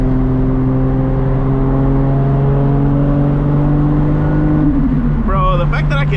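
A 1000+ HP Toyota Supra MK4 pulling hard, engine droning loud and steady from inside the cabin, pitch holding then shifting near the end with a brief whistling whine.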